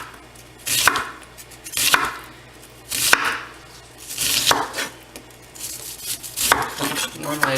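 A knife thin-slices vegetables, including onion, on a cutting board in a home kitchen, making repeated crisp chops that land in slow, evenly spaced bursts, close and distinct.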